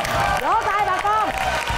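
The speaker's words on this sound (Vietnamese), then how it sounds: "Vỗ tay bà con." Studio audience on a Vietnamese TV reality show applauds as a family receives donated money, with steady clapping and cheering under raised voices.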